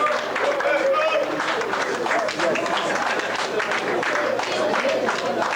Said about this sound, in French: Est-ce qu'on peut applaudir Claude Diès?